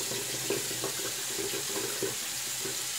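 Tap water runs steadily into a sink while a double-edge razor blade is rinsed off, a close continuous splashing stream with small fluctuations.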